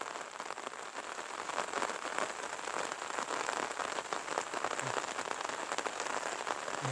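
Rain falls steadily on surfaces outdoors, a dense, even patter of drops that holds at the same moderate level throughout.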